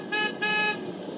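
Locomotive 19G sounds its horn in two short toots, the second slightly longer, fairly loud and clear, with no one talking over it.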